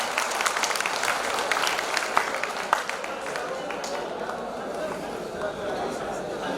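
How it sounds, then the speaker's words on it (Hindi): A crowd at a film-studio setting and allied workers' union felicitation ceremony claps in a dense, sustained patter that gradually thins, with voices talking over it. "या ठिकाणी सर्वांना विनंती, एकदा जोरदार टाळ्या झाल्या पाहिजे भाऊंसाठी"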